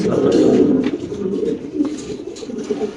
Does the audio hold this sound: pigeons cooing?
yes